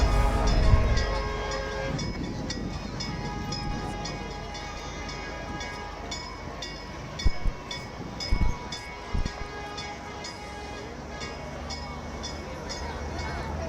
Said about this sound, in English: They're driving the train.